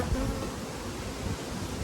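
Honey bees buzz steadily inside an opened hive in a beekeeper's first nucleus colony, a dense continuous drone with no talk over it.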